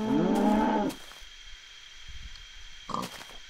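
A Minecraft cow gives one loud, drawn-out moo. A soft, brief cow-like grunt follows near the end against quiet background sound.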